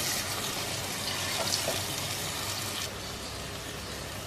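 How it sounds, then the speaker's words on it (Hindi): Water comes to a boil in a cooking pot, giving a steady hiss of bubbling and light splashing that eases slightly toward the end, with no voices. "पानी में उबाल आ रहा है।"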